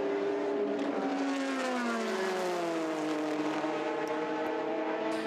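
Race cars at the 2019 24 Hours of Le Mans sweep through a sequence of corners on a new section of track, engines rising and falling in pitch as they pass, loud and continuous with overlapping passes.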